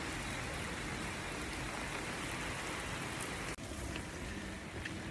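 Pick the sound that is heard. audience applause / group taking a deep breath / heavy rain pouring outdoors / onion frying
heavy rain pouring outdoors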